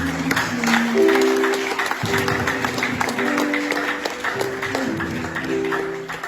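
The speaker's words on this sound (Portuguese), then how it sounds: "Aplauda fortemente" A church congregation in Angola claps loudly during worship, a sustained spatter of hands over held musical tones, continuing steadily throughout.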